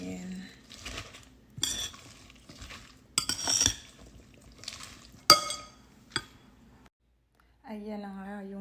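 Salad is tossed in a bowl with utensils, scraping and clinking in repeated bursts against the sides, with a voice speaking briefly at the end.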